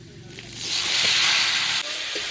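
Chopped tomatoes and green chillies hit hot oil with frying potatoes, setting off a loud, steady sizzle that swells and holds, with a few faint clinks of a utensil against the pan.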